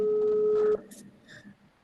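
A telephone call tone sounds as a steady, loud electronic tone for under a second, then cuts off. Faint room noise and brief scattered sounds follow.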